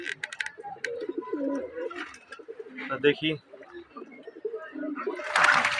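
Domestic pigeons, including a China khaki, coo in low rolling phrases while bathing, close by with scattered chirps and a burst of splashy noise near the end; someone speaks briefly.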